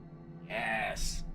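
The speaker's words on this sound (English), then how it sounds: "I've been trying to get a meow on the mic, and I think we got one." A single cat meow rises clearly for about half a second, followed by a short breathy hiss, close to the microphone with no talking.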